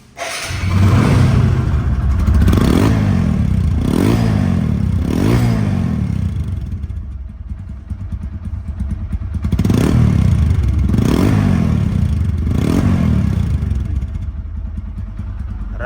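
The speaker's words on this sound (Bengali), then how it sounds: "বাইকটির সাউন্ড কোয়ালিটি কিন্তু একদম নতুনের মতোই আছে" A second-hand TVS RTR160 motorcycle engine idles and revs in repeated swells, loud and close, with no talk over it.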